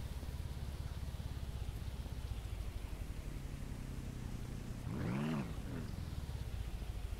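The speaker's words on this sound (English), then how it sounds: "even though it is raining again" Steady rain hiss in the Ranch Simulator video game, a constant broadband wash running alone throughout, with a brief rising engine-like whine swelling near the end.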